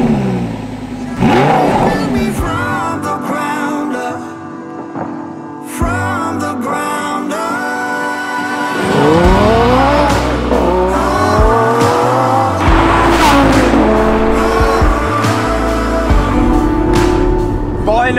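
A standard-form Lamborghini Gallardo drives and revs hard, its engine climbing through rising sweeps with brief lifts between pulls, loud and close, with some tire noise.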